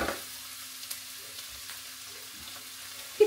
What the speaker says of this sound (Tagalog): Ngayon, we will be cooking the winter chanterelle.